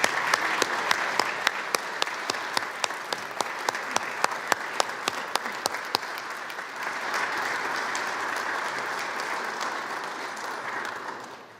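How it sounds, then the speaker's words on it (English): A large audience gives a warm round of applause for legislature guests at a State of the Tribes address, with sharp individual claps standing out early before blending into steady, sustained clapping that fades at the end. "Let's give them all a warm welcome round of applause."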